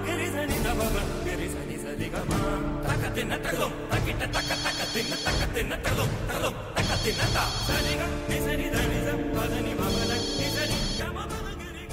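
A telephone rings repeatedly in a domestic TV drama scene, bright electronic trills sounding in regular bursts over background music and voices.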